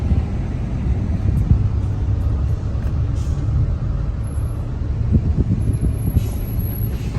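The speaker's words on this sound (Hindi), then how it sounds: "और हाँ, ट्रक भी जा रहा है" A truck rolls past in roadside traffic, a loud steady low rumble that carries throughout with a faint hiss of air brakes near the end; no one speaks.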